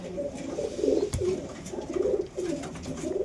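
Three pigeon chicks cooing softly and repeatedly at close range, low gentle coos rising and falling in short phrases, with no talk over them.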